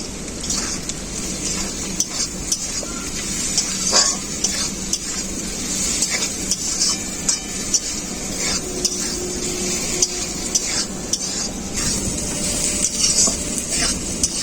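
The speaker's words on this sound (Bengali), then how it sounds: "মশলাটা খুব ভালো করে ভাজা হয়ে গেছে।" Ground spice paste with turmeric powder frying in a pan for a banana flower curry, steady close sizzling with constant scraping stirs and small utensil knocks throughout, no voices.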